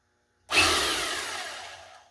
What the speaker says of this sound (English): That's hammer drill.